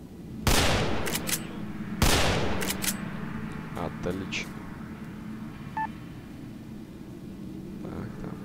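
Gunfire from the video game S.T.A.L.K.E.R. Narodnaya Solyanka mod: two loud, sharp shots about a second and a half apart, each ringing out with a decaying tail, then fainter clicks and in-game ambience.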